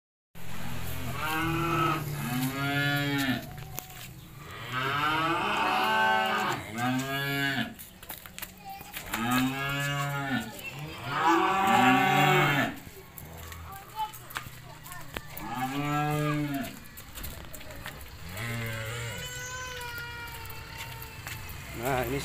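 Simmental cattle, maroon-coated, tall and long-bodied, moo repeatedly in long, loud, drawn-out lows, with about six calls spaced over the stretch and faint background noise between them.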